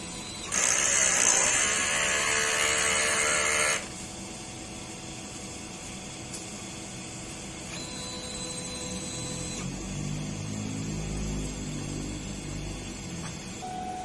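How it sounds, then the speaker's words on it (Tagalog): Mechanical whirring of an inkjet printer running a head cleaning: a loud buzzing burst, then a long steady drone with shifting motor hums and faint clicks. "Ito po yung printer head natin. Head clean."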